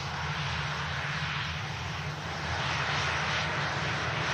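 An Aer Lingus ATR 72-600 turboprop, operated by Emerald Airlines, taxis for departure to Dublin at Manchester Airport, its engines giving a steady broadband roar with a low drone underneath, constant and moderately loud.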